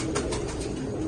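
A captured female pigeon coos softly in a few quick, repeated throaty pulses, close by, against a steady background hiss.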